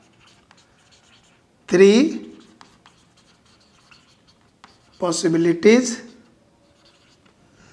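Faint scratching of writing during a class 9 maths lesson on a geometry theorem runs softly between a teacher's spoken phrases.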